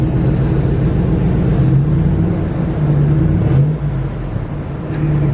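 A 2019 Ram 1500 pickup with its cat-back exhaust deleted accelerates, giving a loud, steady, deep exhaust drone that holds the whole time with slight pitch shifts and no talking.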